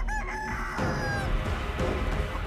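A giant chicken in a video game crows loudly and clucks in a harsh, continuous burst that fills the moment up close, with no talking over it.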